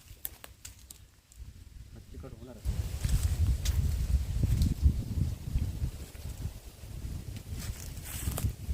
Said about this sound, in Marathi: वारा खूप छान सुटलाय